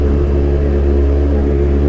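A Kawasaki Z1000 superbike engine rumbles loud and steady, a deep droning idle-like tone with strong low harmonics that holds unbroken throughout.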